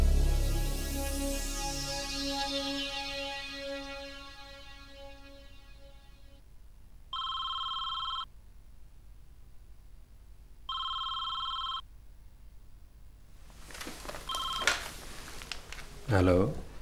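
A landline telephone rings twice in evenly spaced electronic bursts after a fading tone, followed by some rustling and a voice near the end.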